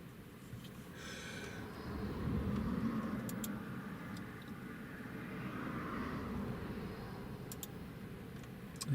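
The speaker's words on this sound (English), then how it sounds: "There's Loganair taxiing," A Loganair airliner taxis at Newcastle International Airport in stormy weather, heard as a steady distant engine roar and rumble that swells slightly midway, with a few faint high ticks over the drone.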